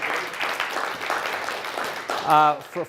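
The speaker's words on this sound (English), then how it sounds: "I want to give a round of applause to Josh for his hard work in putting this together." An audience at a nutrition business event claps in a loose, continuous patter while voices talk over it, and one voice rises briefly near the end.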